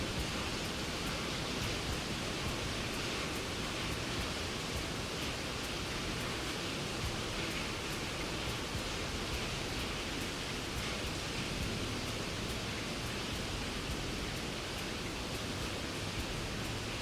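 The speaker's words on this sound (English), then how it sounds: "My good Lord, what a lot of rain." Heavy rain pours as a dense, unbroken roar of hiss that holds steady and loud throughout, with no individual drops standing out and no voices.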